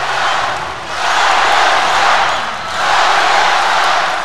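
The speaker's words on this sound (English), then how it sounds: "Chants of Gasparian erupt from the crowd." At the 2023 European Weightlifting Championships, a large arena crowd chants the lifter Gasparian's name in rhythmic, swelling waves of voices.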